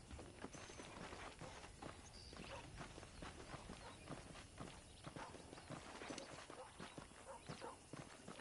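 Several horses' hooves clip-clop steadily at a walking pace, soft and fairly distant, with faint voices underneath, in the video game Red Dead Redemption.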